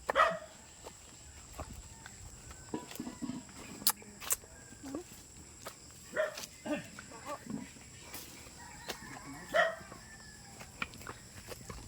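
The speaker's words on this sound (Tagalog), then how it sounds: "Ito yung bahay na maraming aso." Several dogs at a house in the Philippines bark in scattered, intermittent bursts, some near and some farther off, over a low outdoor background.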